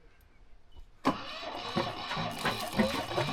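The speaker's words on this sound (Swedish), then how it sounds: "Nu startas här båten." A boat engine being started: quiet cranking, then a sudden loud catch as it fires, settling into a rough running rumble with bursts of sputter.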